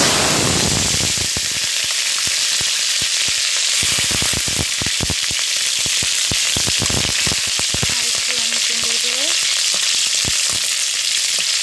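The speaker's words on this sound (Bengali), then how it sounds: "নেড়ে চেড়ে নিচ্ছি একটু ভাজা ভাজা হয়ে যায়" Green chillies frying in hot oil with panch phoron and cumin for a carrot vegetable curry, a loud continuous sizzle broken by sharp crackling pops and spatters, close up with no talking.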